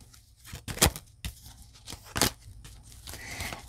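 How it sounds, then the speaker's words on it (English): Tarot cards are shuffled by hand in a few quick, crisp riffles and flicks, close and moderately quiet, separated by softer handling and rustling. "I will shuffle just a few more times."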